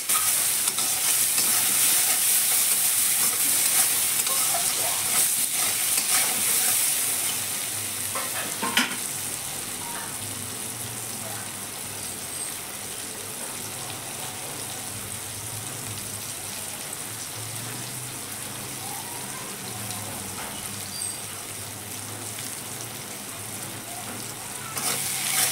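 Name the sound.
potatoes with salt and turmeric frying in a pan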